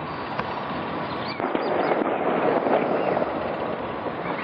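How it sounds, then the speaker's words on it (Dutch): Fireworks still going off in Enschede after the fatal fireworks disaster, heard as scattered sharp cracks and pops over a continuous rushing, wind-like roar. "Ook ruim 13 uur na de fatale knal ontploft er nog steeds vuurwerk in Enschede."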